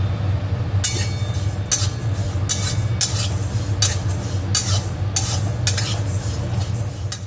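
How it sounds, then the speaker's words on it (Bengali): A spoon stirs moong dal frying in a pot, scraping in repeated regular strokes about every second over a steady low sizzle, close and with no talking. "ভাতটা আগে মুগ ডালটা ভেজে নিচ্ছি"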